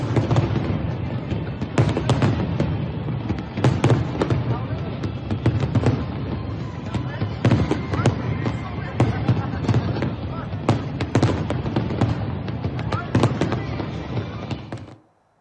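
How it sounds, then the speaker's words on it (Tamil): Fireworks burst without pause over Singapore at the New Year celebration. The sharp cracks and booms come rapid and overlapping in dense, loud volleys that keep going and then stop abruptly. "அப்போது இடைவிடாது வெடித்த வான வேடிக்கைகள் வானை வண்ணமயமாக்கின."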